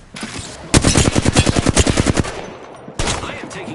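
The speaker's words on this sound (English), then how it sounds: "I am taking fire." Rapid automatic gunfire from a video game, a fast burst of about fifteen evenly spaced shots, loud and close, followed by a short pause and another burst starting.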